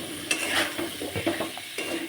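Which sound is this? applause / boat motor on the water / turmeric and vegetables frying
turmeric and vegetables frying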